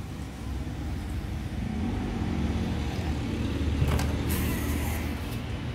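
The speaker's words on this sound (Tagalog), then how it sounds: "Yung sa unahan na yan, highway na dyan" Steady low rumble of vehicles on a nearby highway runs throughout at constant level, with a brief swell as something passes near the end, heard from beside an abandoned boarding house.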